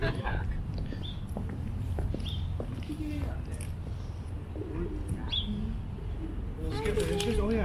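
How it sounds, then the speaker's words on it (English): Pigeons coo and small birds chirp intermittently along a waterfront quay, scattered calls over steady outdoor city hum with footsteps and nearby people talking. "Ah, oh, the birds."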